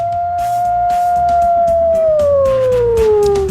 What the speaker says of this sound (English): We begin with a howl momentarily.